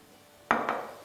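A utensil knocks twice against a bowl while roasted eggplant bharta is mixed with mustard oil, giving two quick, close clinks in an otherwise quiet room.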